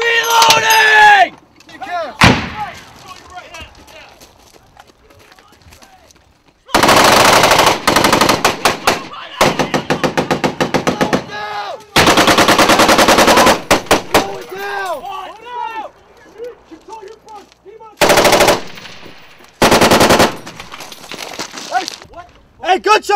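Gunfire from a firefight between Marines and enemy fighters in Afghanistan: loud, dense bursts of automatic fire and single sharp shots come in several long volleys, with shouted voices in between.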